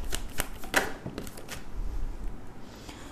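A deck of tarot cards being shuffled by hand, with a few quick riffling bursts and soft papery slaps close up over about three seconds.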